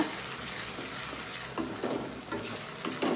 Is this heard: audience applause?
no